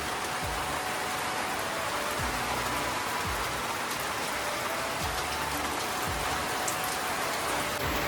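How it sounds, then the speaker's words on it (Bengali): Steady rain falls on surfaces during a sunshower, a dense, even hiss of drops that stays constant and fairly close, with faint low rumbles beneath and no voices. "আরেকদিকে বৃষ্টি।"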